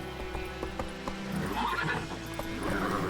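Roach, a horse in the video game The Witcher 3, gives a clear whinny over a run of clip-clopping hooves, with game ambience beneath.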